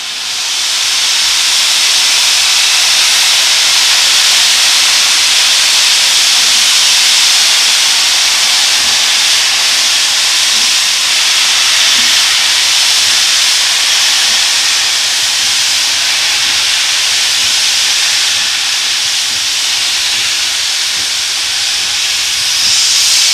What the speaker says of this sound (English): In front of me we have a steam train on the Paignton and Dartmouth Steam Railway.